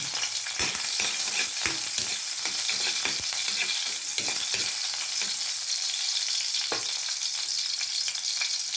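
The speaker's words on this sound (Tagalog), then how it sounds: "nagpainit na tayo ng mantika. Mag-start na tayo ng gisa ng bawang." Garlic sautéing in hot oil for a chicken, carrot and cabbage sotanghon dish, a steady loud sizzle with scattered clicks and scrapes of stirring throughout, no voices.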